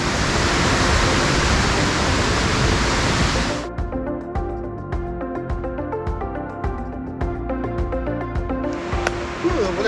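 Steady, loud rushing roar of Bald River Falls in Cherokee National Forest, Tennessee, filling the first few seconds before cutting to a quieter scene with voices and faint background tones.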